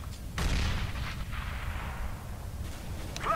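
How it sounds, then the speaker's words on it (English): A grenade blast in the video game CS:GO, a sudden loud boom followed by a long rumbling decay and a fading hiss, with a brief sharp sound at the end. "I'm throwing a grenade!"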